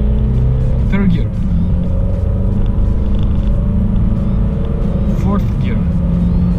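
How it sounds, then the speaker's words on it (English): A BMW E90 sedan accelerates hard at full throttle in third gear, a loud, steady engine drone and road rumble heard from inside the cabin, with someone talking over it throughout. "now I'm second gear and I'm flooring it. Third gear."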